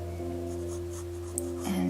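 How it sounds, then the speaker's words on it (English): An H pencil scratching lightly across paper while shading a still-life apple, a soft continuous graphite rasp under a steady low electrical hum, close and quiet. "I can go in a little bit with this H pencil"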